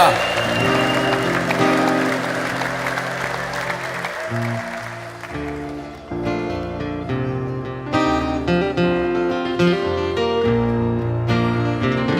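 Clapping and ululation rise in a church worship service, with voices and music mixed in, a continuous loud celebratory swell lasting about twelve seconds.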